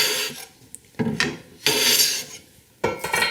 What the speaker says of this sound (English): this part of the board is also where I'm kind of planing against the grain a little bit